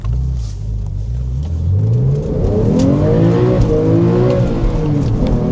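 A Porsche 911 GTS, 13 years old, drifts with its engine revving hard and rising in pitch while the tires squeal, loud and close throughout with no talking.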